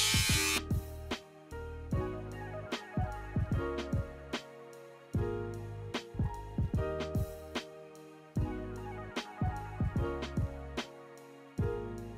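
Electric hair clipper cutting a flat top haircut, running in short repeated passes with frequent clicks and taps as the blade meets hair, close and fairly loud, no talking.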